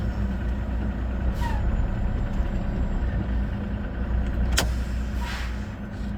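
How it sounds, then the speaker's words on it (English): A Volvo truck engine idling loud and steady, then given a bit of gas in drive while the trailer brake holds it still, with a brief hiss near the end. "I'm going to put the truck in drive. I'm going to give it a little bit of gas."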